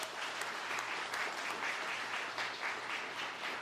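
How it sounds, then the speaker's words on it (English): A crowd at a political gathering in Raleigh, North Carolina claps for volunteers, a continuous, even burst of applause filling the whole stretch at moderate volume with no talking. "please giving them a round of applause"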